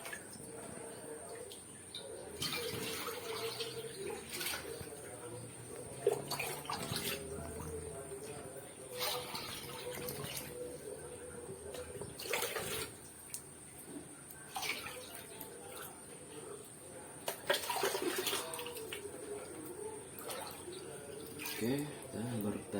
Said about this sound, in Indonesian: Oke, kita tambahin airnya lagi.